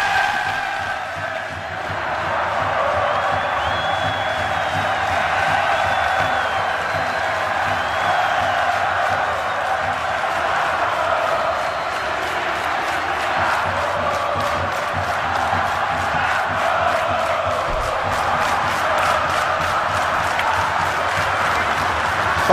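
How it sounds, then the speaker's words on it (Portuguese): Fluminense supporters roar and cheer in a football stadium, Engenhão, as their team walks onto the pitch before a Brazilian league match against Vasco; a dense, steady crowd din with chanting and whoops fills the whole stretch. "o Fluminense está em campo, recepcionado por sua apaixonada torcida"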